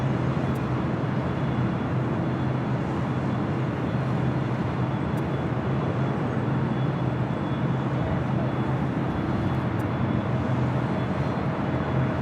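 An airliner arriving at LAX airport, a loud continuous broadband roar holding steady throughout.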